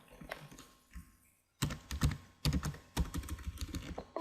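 Typing on a computer keyboard while entering currency names in accounting software: a soft patter of keystrokes, then faster bursts of close clicking taps in quick clusters, with no talk.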